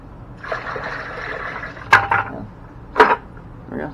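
Water swished around in a container to rinse duckweed, a steady watery churn with several sharper splashy surges, close and moderately loud with no talking.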